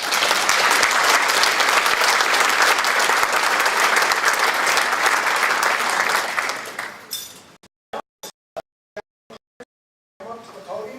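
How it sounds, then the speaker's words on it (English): A Founders Day audience gives a sustained round of applause, dense and loud for about seven seconds before fading into a few scattered last claps, then a voice begins. "let's give them a round of applause"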